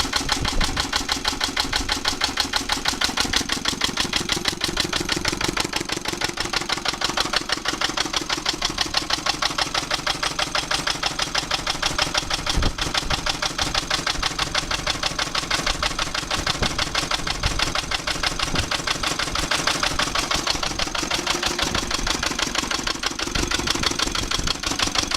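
An old workshop engine with cast iron wheels and badly worn crank bearings idles as it runs out of fuel, its steady rapid knocking chugging on continuously and loudly with no voices.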